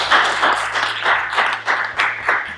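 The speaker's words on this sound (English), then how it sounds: "Let's get that around of applause" Applause from a group after a workshop audience settles on the name Art Spark: a few pairs of hands clapping with uneven bursts for about two and a half seconds, fairly close, with no talk over it.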